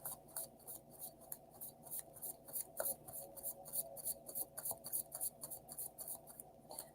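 Tarot cards are shuffled in quick, rhythmic riffling bursts, crisp and close, repeating steadily with no voices.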